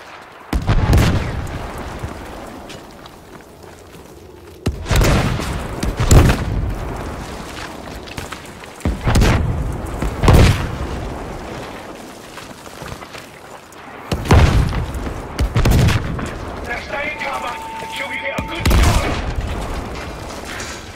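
Heavy cannon blasts and gunfire in Battlefield V, a series of loud booming shots spaced a few seconds apart, each trailing off into rumble, with scattered smaller reports between.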